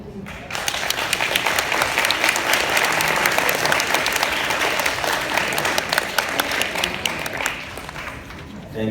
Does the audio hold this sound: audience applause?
yes